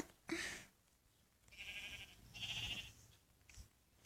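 Several short, faint sheep bleats with a synthetic, game-like quality, spaced apart over quiet background noise, from sheep in Minecraft.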